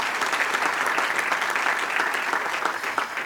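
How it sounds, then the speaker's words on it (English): Conference audience applauding after a panel, a dense, steady wash of many hands clapping at moderate distance, sustained throughout. "Please, a round of applause for Mr. Markovich."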